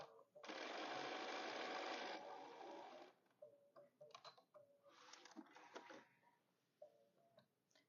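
Domestic sewing machine stitching quilt fabric scraps, a loud close whirring run of about two seconds that then slows, followed by several shorter stop-start bursts of stitching.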